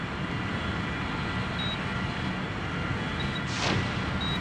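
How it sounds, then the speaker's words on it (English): Steady roaring jet-engine drone from the video game Sonic Adventure, a loud continuous wash of broadband noise with a brief whooshing sweep near the end and faint high beeps. "we still have, like, a jet engine kind of noise"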